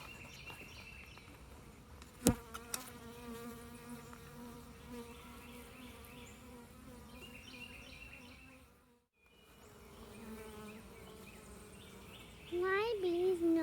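Steady, dense buzzing of many honeybees swarming close around a hive box, with a brief sharp knock early on and a louder, closer bee whine near the end.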